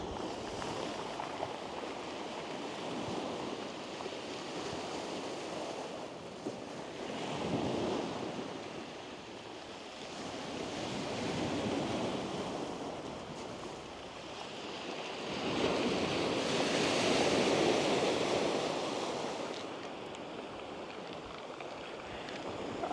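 Sea waves break on the coast of Crete between Kokkinos Pyrgos and Agia Galini, swelling and fading in slow surges every few seconds, with wind buffeting the microphone and no talk.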